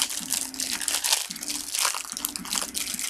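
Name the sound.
eating Mott's packaged apple slices, crunching and package crinkling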